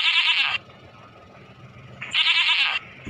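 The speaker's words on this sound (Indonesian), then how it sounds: "Ternyata ini kambing" A goat gives two loud, close, nasal bleats, each about half a second long, separated by a pause of roughly a second and a half.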